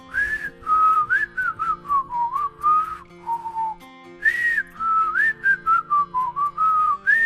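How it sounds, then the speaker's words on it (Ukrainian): Someone whistles a little song as a lively melody of short and sustained notes in phrases with brief pauses, close and clear, with no speech. "Рорі почувався так добре, що насвистував пісеньку."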